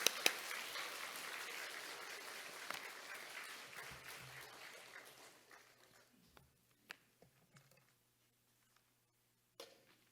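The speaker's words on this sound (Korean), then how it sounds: "두 분을 우리 힘찬 환영의 박수와 함께 모시도록 하겠습니다." A church congregation at a Sunday afternoon worship service applauds in welcome for two guests, broad loud clapping that fades over several seconds into a quiet room with a few scattered claps and light footsteps.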